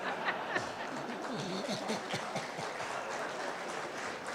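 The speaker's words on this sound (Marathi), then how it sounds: "टाळ्या" An audience at an investment summit in Nashik claps in a steady, fairly faint patter of applause that carries on throughout, with a little murmuring mixed in.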